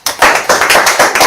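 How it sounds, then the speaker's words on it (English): An audience applauds in a room, a short burst of brisk, close clapping with a quick irregular rhythm that stops after a moment. "I said to applaud yourself, and then other people applauded you"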